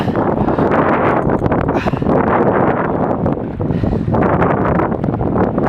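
Strong wind at a fishing lake buffets the microphone in a loud, continuous roar that surges and dips throughout.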